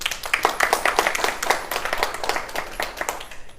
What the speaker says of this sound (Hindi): एक ताली हो जाए डॉक्टर लिम के लिए